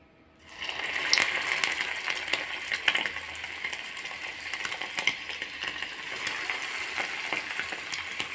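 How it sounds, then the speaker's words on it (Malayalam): Egg pocket rolls frying in hot sunflower oil, a dense continuous sizzle and crackle that starts suddenly as they drop in, then holds steady with small pops, no talking. "അപ്പോൾ നമുക്ക് ഓരോന്നേയായിട്ട് ഇട്ട് ഫ്രൈ ചെയ്തെടുക്കാം."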